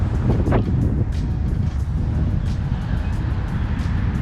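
Strong gusting wind at a lake on a brutally windy day, a loud continuous roar and buffeting against the microphone with low rumbling swells and no clear pauses.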